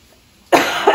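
A woman getting over bronchitis lets out a sudden harsh cough, close and loud, after a quiet moment, with a second rough burst following right behind it.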